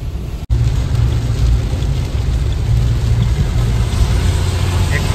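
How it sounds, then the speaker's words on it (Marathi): Heavy night rain near Tuljapur, heard from inside a Maruti Suzuki Fronx: a steady, dense hiss of rain with a low drumming rumble that continues unbroken, with no one speaking. "तुळजापूरमध्ये पाऊस बघा मित्रांनो"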